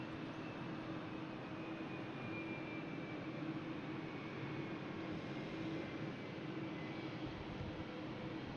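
Vueling passenger jet departing Brussels Airport, a steady broadband engine roar with a low tonal hum, distant and continuous throughout, no voices.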